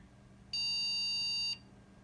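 A trash-picked HP desktop PC gives a single steady electronic beep lasting about a second at power-on, clear and loud against a quiet room background.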